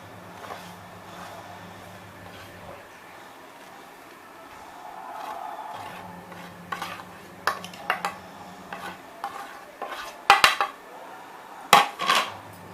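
A spoon scrapes and clanks against a warm pan while rice semolina filling is mixed into melted jaggery for ladoos, quiet at first, then sharper irregular metallic knocks and scrapes, with a low hum underneath.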